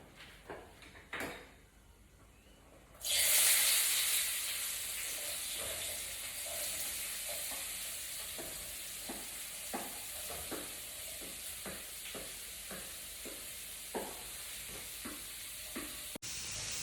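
Onion and green chilli sizzle as they fry in a pan, with a steady frying hiss rising after a few quiet seconds and repeated scraping stir strokes knocking at an irregular rhythm close by.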